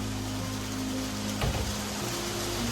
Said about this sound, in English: this rain is loud as fuck